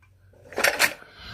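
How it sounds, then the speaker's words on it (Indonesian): A plate is pulled from a stack of dishes while cooking rendang-flavoured instant noodles, giving two quick ceramic clinks close by in an otherwise quiet kitchen. "Kita ambil piring."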